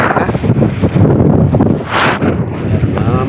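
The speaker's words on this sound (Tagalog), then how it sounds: "Lakas naman ng amihan, grabe oh." Strong northeast monsoon wind at sea beside a small fishing boat, loud roaring gusts buffeting the microphone with water sloshing underneath and a brief burst of louder noise midway.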